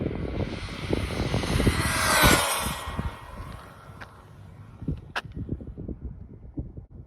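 A Laegendary Thunder RC car on a 4S battery pack runs at full throttle in a 100 mph speed attempt. Its motor gives a loud, high-pitched whine that swells to a peak, then fades as it passes, with rough rumbling underneath.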